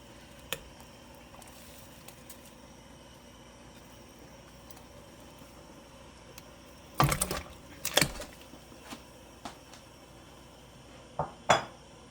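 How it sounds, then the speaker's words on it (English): Cassava pieces being dropped into a big soup pot on a stove, a cluster of clattering, clunking hits against metal after a quiet stretch, then a few scattered knocks. "Here I'm putting in the cassava."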